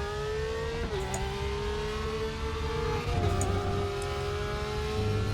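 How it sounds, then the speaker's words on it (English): A high-pitched Porsche GT3 racing engine in the game RaceRoom drones steadily, its revs dipping briefly and climbing again, a smooth synthetic whine with no voices. "The full fat version of the GT3 engine always sounds like it's got a bit more urgency"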